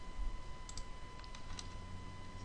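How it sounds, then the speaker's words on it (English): A few faint, sharp computer mouse clicks, including a right-click, while points are selected on a raster map being georeferenced, spaced irregularly over a quiet, hissy background. "Select our point, right click"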